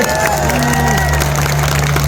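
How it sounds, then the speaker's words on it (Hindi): A dense crowd at an outdoor political rally in Ashok Nagar cheering and clapping loudly and continuously, with shouts rising over a steady roar and an electrical hum beneath. "अरे उस बच्चे के लिए जरा तालियां बजाओ जिसने उतनी बहादुरी से बात की।"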